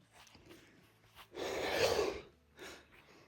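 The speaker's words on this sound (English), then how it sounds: "Had to let out my breath." A person outdoors on a quiet evening hillside watching rams lets out a long held breath in a heavy, rushing exhale, framed by softer breaths before and after, close to the ear.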